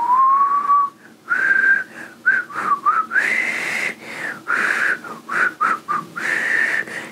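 A person whistles a wavering, breathy melody in short phrases with brief gaps, close and fairly loud, with no talking.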